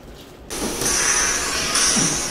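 Water gushes steadily from a tap during a hair wash in a salon, starting abruptly and continuing as a close, even hiss, with no talk.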